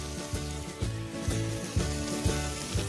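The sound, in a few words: burgers sizzling on a griddle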